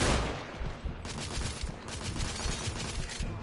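Rifle fire in the video game The Order: 1886 rattles in a dense, continuous burst of rapid shots with booming low thumps throughout, moderately loud and with no voices over it.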